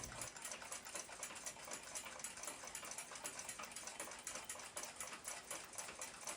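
The balance wheel of an unfastened United States pocket watch ticks fast and evenly, a faint, close, continuous mechanical rattle with a steady rhythm and nothing else around it.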